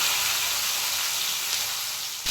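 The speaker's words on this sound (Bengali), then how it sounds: "এখন এগুলো আমি একটু নেড়ে ছেড়ে ভেজে নেবো" Pointed gourd coated in turmeric frying in a pan, a steady bright sizzle running throughout, close and fairly loud, alone without talk.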